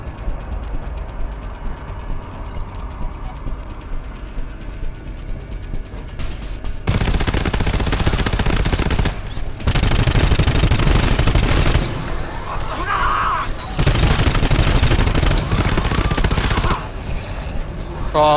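Automated turrets in GTFO fire in long, loud, sustained bursts of rapid gunfire, broken by short pauses, over lower-level game ambience.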